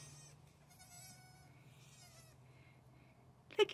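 Goats in a farm goat yard, including young floppy-eared kids, give faint, wavering bleats at a distance over a steady low hum, then a brief louder thump near the end.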